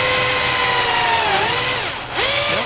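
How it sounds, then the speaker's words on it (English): A power drill with a 3/16 inch bit bores screw holes into a computer case, its whining motor droning steadily and close, dipping briefly in pitch near the end before spinning back up. "For the screw mounting holes, you want to use a 3/16 inch size drill bit."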